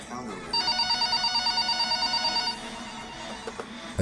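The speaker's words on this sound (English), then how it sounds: "the phone on the counter rang" A telephone on a shop counter rings with a clear, steady trilling bell for about two seconds, fairly close, then stops, leaving quiet room noise and a few faint knocks.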